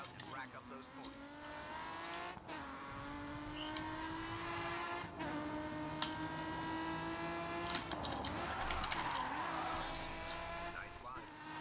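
Race car drifting through a lap of a GRID 2 drift event, engine droning at steady high revs with pitch sliding as the back end swings out, tires squealing and skidding throughout, loud and close.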